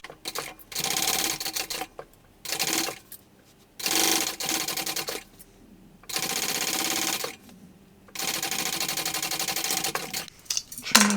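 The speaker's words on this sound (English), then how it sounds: "right sides together, sewing with the seam allowance given in the pattern" A sewing machine stitches the panels of a small bucket bag right sides together, running in four loud bursts of steady whirring separated by short pauses.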